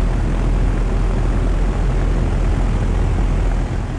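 A 2017 3.5-ton Rheem RP15 heat pump running in heat mode, its outdoor fan motor giving a steady, close, even whoosh and hum with no voices.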